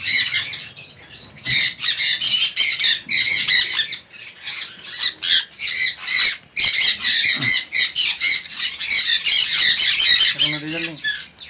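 Pineapple conure parrots at a bird breeding farm give loud, repeated harsh squawks in dense overlapping bursts, nearly continuous and close, with a brief pause around the middle.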